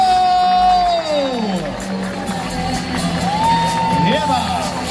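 A crowd at a flying show shouts and whoops, with rising and falling cheering voices over a general murmur and little distinct clapping.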